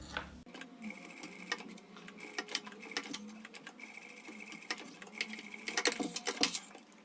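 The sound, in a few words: sewing machine stitching a rectangle on bag strap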